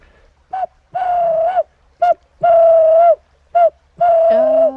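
A person whistles through cupped hands to mimic a Cape turtle dove, also called the ringneck dove: a rhythmic run of short and drawn-out hooting notes, repeated twice and then trailing off, close and clear.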